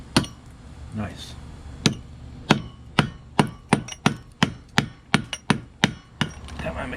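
A Makita hammer drill set up as a jackhammer chips into a masonry wall in sharp, loud, closely spaced impacts, sparse at first and then quickening into a rapid irregular run.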